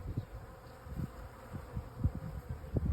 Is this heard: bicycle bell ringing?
no